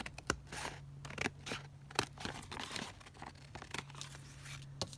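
Scissors snip through paper to make junk journal pockets, a handful of sharp close cuts at uneven intervals with light paper crinkling between them, quiet and without talk.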